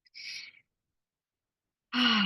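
A person draws a deep breath in, giving a soft airy inhale, then pauses in silence before a louder breathy exhale or voiced sigh starts.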